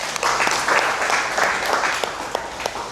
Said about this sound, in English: I would like to first have a round of applause for them.